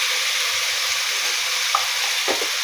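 Spice paste of onion, garlic, ginger and cumin with panch phoron frying steadily in oil in a pan, a continuous close sizzle with a few soft stirring scrapes and knocks toward the end.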